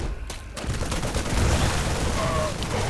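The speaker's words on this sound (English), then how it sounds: "Marines that absolutely cannot hit these Broodlords and are wasting all their ammo on Broodlings as they slowly die" Sustained rapid gunfire from StarCraft Marines shooting at Broodlings, a dense continuous rattle of automatic fire with layered battle noise beneath a voice talking.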